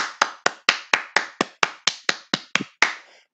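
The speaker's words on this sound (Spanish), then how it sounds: "clap for you, aplauso por ustedes" Children in a classroom clap together in about a dozen sharp, evenly spaced beats, the rhythm slightly uneven toward the end. The claps are close and loud, with no talking.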